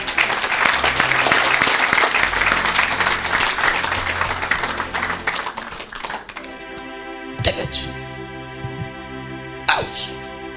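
A church congregation at an evangelistic service applauds in a dense, sustained burst of clapping that fades after about six seconds, leaving music tones with a couple of sharp taps.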